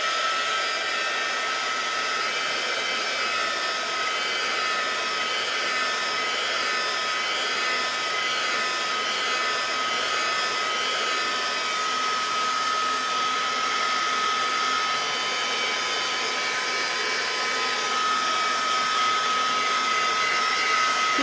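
A heat tool blows steadily and loudly on paint drying on a mixed media art tag, a constant whooshing roar that runs unbroken for the whole stretch with no talk.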